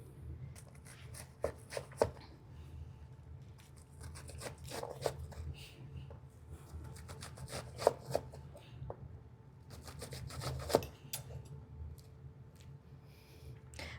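A knife dicing an onion on a cutting board for mango salsa, with irregular soft taps and crisp cuts, sometimes in quick clusters, over a low background hum.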